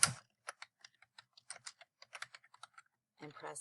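Typing on a computer keyboard: a quiet, close series of about twenty crisp key clicks in short irregular bursts, with brief gaps and a faint rustle at the end.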